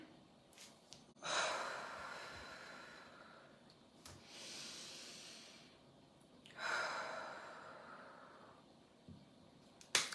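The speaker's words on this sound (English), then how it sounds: "let's take a big deep breath" Slow, deep breaths come in long airy waves, two strong inhales or exhales spaced several seconds apart with quieter breathing between, close and soft with no talking.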